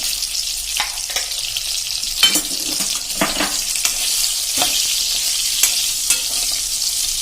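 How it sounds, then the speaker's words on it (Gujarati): Stuffed green chillies shallow frying in oil in a pan, a steady close hiss and crackle that runs without a break, with a few sharp spatters and pops rising above it and no talking. "એકદમ સરસ સેલો ફ્રાય થઈ ગયા છે"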